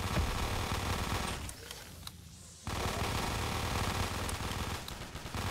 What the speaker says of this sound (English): This small gun's actually quite good